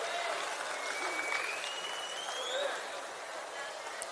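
An audience claps steadily throughout, a dense, even wash of applause heard from within the crowd.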